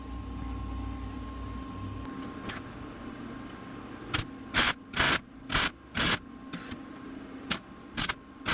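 Welding parts of an SR-71 hood ornament: a hum and faint hiss, then a run of short sharp bursts of crackling buzz in quick succession, each about a third of a second, with no talk.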